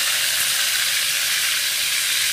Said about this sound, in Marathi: आता तेल टाकले, मी तेलात हा वाटण टाकते, अद्रक, लसूण, मिरचीचं